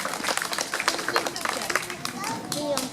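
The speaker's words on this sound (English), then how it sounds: "let's give Rio a round of applause for opening up the show today" Scattered applause from a zoo audience at a birds of prey show, honoring Rio the macaw, crackles steadily through three seconds with voices mixed in.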